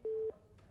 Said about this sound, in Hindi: लगता है फोन उन्होंने काट दिया है।